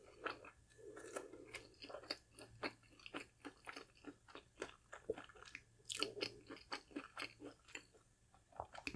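Close, quiet crunching bites and chewing of a crispy breaded flounder fish sandwich on a soft brioche bun from Popeyes, a steady run of crackly crunches with no talking.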